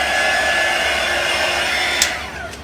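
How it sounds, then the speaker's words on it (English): A craft heat gun blows steadily over painted wood, a constant close airy whoosh with no breaks, ending in a brief click near the close as it shuts off. "these are heat guns for crafting"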